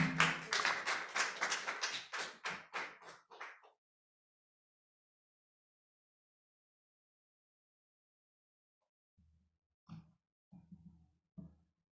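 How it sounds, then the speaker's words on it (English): An audience after a talk on disaster preparedness gives a burst of clapping that fades out after a few seconds, followed by a long silence and then a few faint scattered sounds. "Another round of applause for David Jakeem."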